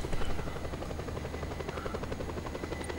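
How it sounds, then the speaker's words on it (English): An attack helicopter in Just Cause 2 flies close by, its rotor chopping in a steady, rapid beat with a constant engine drone, loud and alone for about three seconds. "I'm gonna get an attack helicopter just for you guys."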